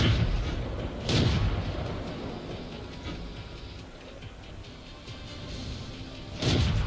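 Tank cannon shots and a ricochet in World of Tanks while playing a Churchill 3, with sharp booming hits near the start and end over a steady rumbling engine bed.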